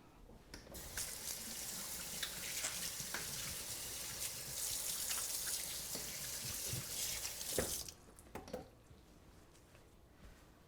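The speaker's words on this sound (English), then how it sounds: "I'm going to go ahead and just wash my hands here" Tap water runs steadily into a sink while hands are washed, a continuous rushing hiss for most of the time, then cutting off into faint drips and light handling sounds.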